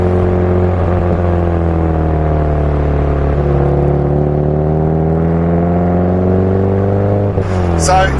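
A Subaru Impreza STi S204 on a road test, its engine note loud and steady inside the car, rising and falling through revs with a brief shift near the end.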